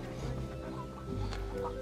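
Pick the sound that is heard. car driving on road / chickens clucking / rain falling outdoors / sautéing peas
chickens clucking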